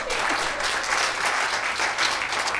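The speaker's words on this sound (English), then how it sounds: "Go ahead, clap, please." Steady applause from a church congregation fills the space, sustained and fairly even throughout without any distinct voices over it.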